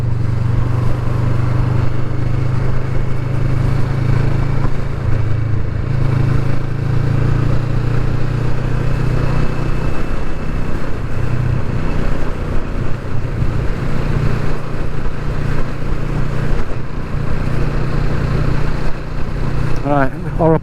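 A 2020 Kawasaki Vulcan S motorcycle cruises in 6th gear at around 40 mph. A low, steady engine drone runs under constant wind rush for the whole stretch.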